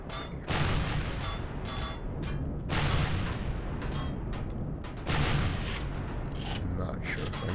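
Gatling guns firing in the sci-fi game Empyrion, dense rapid bursts and booming impacts in loud repeated waves, with short gaps between barrages.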